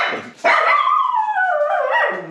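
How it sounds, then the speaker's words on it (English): A single loud, drawn-out dog bark rising into a whining howl, close by and alone, after a brief yip at the start. "Hopefully like the cops don't get called or something because of the dog's barking."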